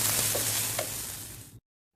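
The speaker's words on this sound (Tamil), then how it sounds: "வெங்காயம், கருவேப்பிலை சேர்த்து லேசாக வதக்கி விட்டுக்கோங்க" Onions and curry leaves sauté in hot oil with cumin and dried red chilies, giving a close, even sizzle with a couple of faint stirring touches before it cuts off abruptly.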